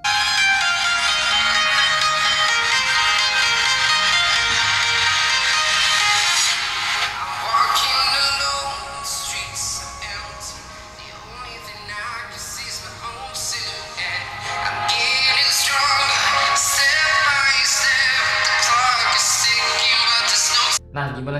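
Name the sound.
Infinix Smart 8 phone speaker playing ringtone or music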